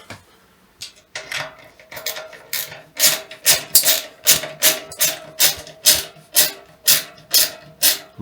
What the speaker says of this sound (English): I'm cheating using a ratchet.